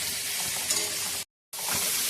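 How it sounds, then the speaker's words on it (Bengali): Fish masala sautéed in a pan, giving a steady, bright sizzle close up, briefly cut by a moment of silence before the frying resumes, with no voices. "একটু কষিয়ে নিচ্ছি"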